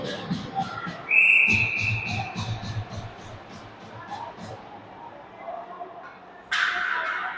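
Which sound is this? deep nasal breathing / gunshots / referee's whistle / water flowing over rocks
referee's whistle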